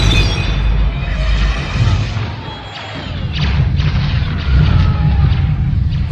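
A turbolaser blast and explosion in a Star Wars audio drama, heard as a sustained heavy rumble with booming thuds and bursts that swell and fade over several seconds, loud and close with no talk.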